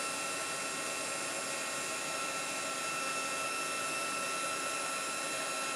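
A heat tool blows steadily to melt embossing powder on a handmade fruit-themed card, a continuous hissing airflow whine that holds level throughout without pauses.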